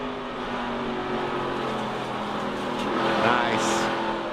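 Onboard at a NASCAR Truck Series race, a truck engine held at full throttle roars steadily under heavy wind rush, with a faint tire squeal late and a commentator talking underneath.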